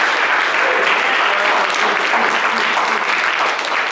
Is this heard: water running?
no